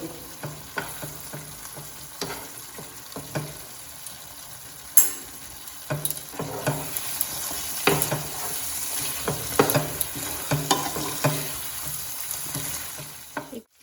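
Prawn malai curry frying in a pan after ghee goes in: a steady, loud sizzle runs throughout, with repeated scrapes and clinks of a spoon stirring the pan.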